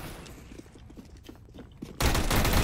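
Gunfire in the video game CS:GO: quiet in-game ambience with faint clicks, then a loud, dense burst of rapid shots erupts near the end and continues.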